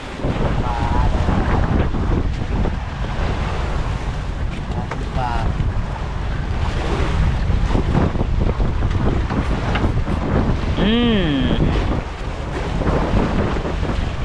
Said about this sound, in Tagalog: Ayun ayo, ang alon.